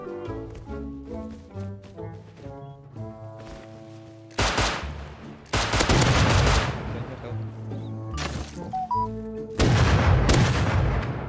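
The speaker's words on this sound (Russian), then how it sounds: "я наконец-то услышал выстрелы" Bursts of gunfire from a multiplayer survival video game break over a musical background, with several loud volleys arriving in clusters, the loudest near the end.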